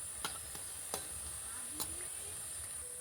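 Battered egg and gram flour snacks fry steadily in oil, giving a soft continuous sizzle with a few faint clicks of a utensil, heard alone without talk.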